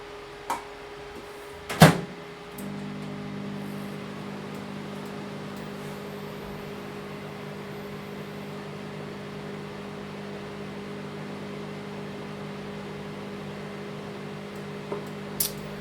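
A microwave oven in a home kitchen clicks on after a couple of door and cupboard knocks, then settles into a steady low hum that runs alone and quiet to the end.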